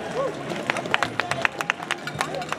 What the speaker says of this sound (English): let's give him a nice big round of applause